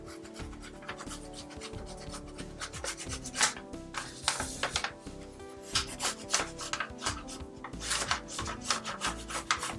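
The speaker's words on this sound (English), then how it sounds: "I just need to trace around the edge now." Pencil rubbing and rasping along the edge of a paper sewing pattern, a steady scratchy drawing sound with short repeated strokes, close and fairly quiet.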